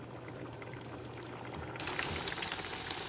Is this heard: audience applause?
no